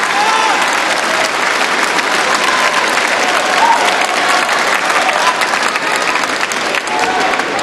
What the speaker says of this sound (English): you could hear the crowd applauding